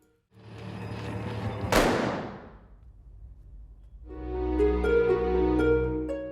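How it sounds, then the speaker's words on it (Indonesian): A single sharp pistol shot cracks out inside a house, followed by a long booming rumble that fades, then a low swelling dramatic drone rises. "tiba-tiba terdengar suara tembakan dari dalam rumah"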